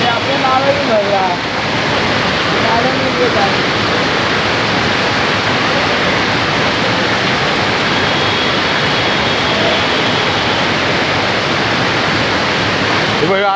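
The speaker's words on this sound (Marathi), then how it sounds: "तिकडून पाणी इकडे येत आहे." Heavy rain sends water rushing and flowing loudly, a dense unbroken roar like a torrent that holds steady throughout at close range.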